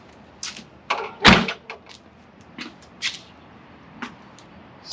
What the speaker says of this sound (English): The real test is shutting the door and it actually being square still.